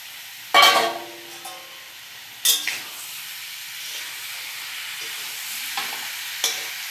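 Chicken pieces fry in spiced oil in a pan, with a loud sizzling burst as they go in, another a couple of seconds later, then a quieter steady hiss and a few light stirring scrapes.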